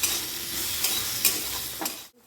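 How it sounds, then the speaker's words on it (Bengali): Okra fries with turmeric in a pan, giving a steady close sizzle with occasional stirring scrapes, then a sudden cut to near silence at the end. "অল্প পরিমাণে দিয়ে দিচ্ছি এখানে হলুদ, মিশিয়ে ভালোভাবে ভেজে নেব"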